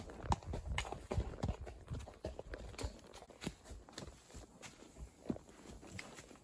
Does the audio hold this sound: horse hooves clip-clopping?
yes